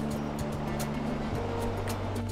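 The Diguillín River in Chile flows steadily as a broad, continuous rushing wash, with a low mechanical hum underneath and no clear voices.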